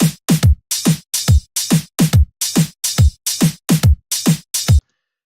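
Twelve sharp drum hits with booming low tails sound in a steady, swinging pattern, loud and close, then stop abruptly into silence.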